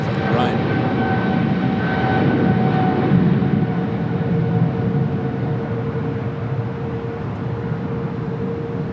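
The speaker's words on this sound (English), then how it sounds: "We do British Airways rocking and rolling down to 25 on the right." British Airways jet airliner taking off on runway 25 right, a steady broad engine roar with a whining tonal hum, held loud and fairly close throughout with no talk over it.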